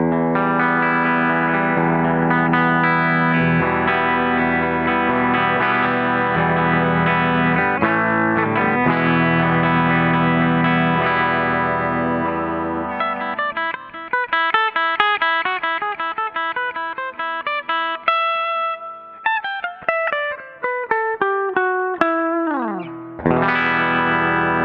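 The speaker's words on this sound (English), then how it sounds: "Let's start with a clean sound on the Epiphone 700T bridge pickup." Clean electric guitar through an Epiphone 700T bridge pickup, first sustained strummed chords, then picked single notes and arpeggios ringing out with some effect coloring, alone with no talking.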